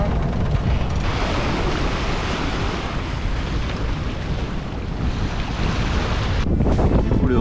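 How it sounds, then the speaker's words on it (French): Strong wind of about 22 knots roars past a sailing boat at sea near Cape Saint Vincent, Portugal, a loud constant rush with microphone buffeting and wave wash, unbroken throughout with no talk. "Du coup, le vent souffle un peu plus,"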